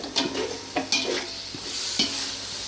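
Ginger garlic paste with extra garlic fries in a pan for biryani, a constant close sizzle broken by several sharp scrapes and clinks of a spoon stirring the paste.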